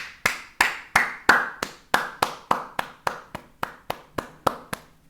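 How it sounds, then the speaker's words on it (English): Hand claps ring out alone, about fifteen crisp, evenly spaced claps in a steady rhythm, close and loud, slowing slightly toward the end. "let's just clap it up for Bitcoin one time"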